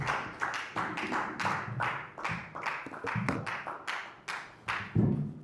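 A church congregation claps in praise during a Sunday service, about a dozen distinct, evenly paced claps and taps ringing close and crisp, each with a short decay.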